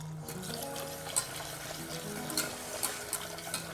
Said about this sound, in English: I'll now add the rest of the stock.